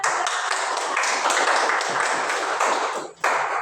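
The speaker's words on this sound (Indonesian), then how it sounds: "Iya, tepuk tangan." Students in a classroom clap together in a quick, lively burst, the clapping bright and close, dipping briefly near the end before picking back up.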